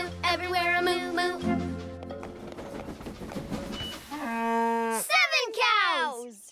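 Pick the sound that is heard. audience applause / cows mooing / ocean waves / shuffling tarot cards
cows mooing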